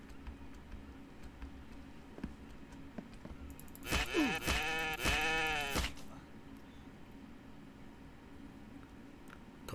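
A goat in the survival video game The Infected bleats loudly twice in quick succession midway, over quiet ambient game background.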